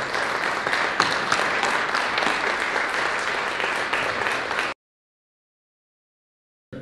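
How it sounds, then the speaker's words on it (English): A reception audience applauds the Chamber of Commerce with steady, dense clapping for several seconds, which then cuts off abruptly into silence. "join me in giving a round of applause to the Chamber of Commerce for hosting us here tonight at this reception"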